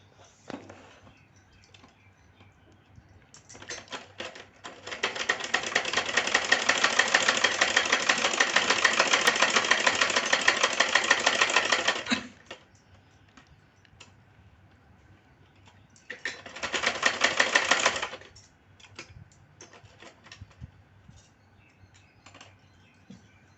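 Sewing machine stitching a double katori blouse part, running in one long steady burst of about seven seconds and then a shorter two-second run, with quiet pauses between.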